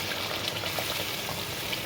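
Spice-bowl rinse water poured into a simmering eggplant curry in oil, a continuous close gushing pour with a bubbling, sizzling wash running steadily throughout.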